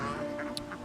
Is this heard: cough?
no